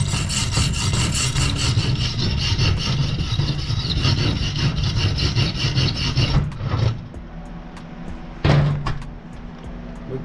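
A wire wheel scrubs a steel weld in a shop, a loud, continuous rasping grind for several seconds before it stops, followed by a brief final burst.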